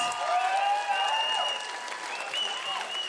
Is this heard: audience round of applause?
yes